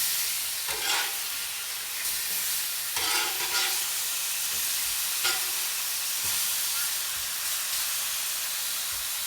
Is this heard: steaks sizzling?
yes